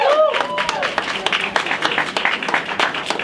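Audience applause greets a business coach being introduced at a mixer with speeches and toasts: steady dense clapping throughout, with a whistle and some cheering near the start.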